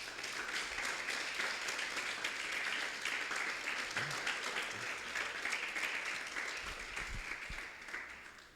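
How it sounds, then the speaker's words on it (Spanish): Sustained applause fills a church service, a dense, steady wash of many hands clapping at fairly even loudness for several seconds, with a few low thumps near the end. "Dale un aplauso al Señor."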